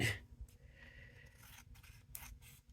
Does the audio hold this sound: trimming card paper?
yes